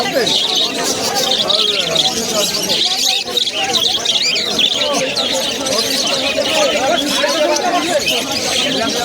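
Many pigeons and other birds chirp and coo amid a busy crowd at a pet market in Uluberia, West Bengal, with people talking nearby over the continuous chatter of the birds.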